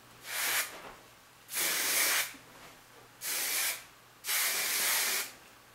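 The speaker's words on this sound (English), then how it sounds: "finish with a light mist of hairspray" Hairspray is misted over a finished fishtail braid in four steady hissing bursts, each lasting about half a second to a second, with short pauses between them. The bursts are close and clear, with no talk.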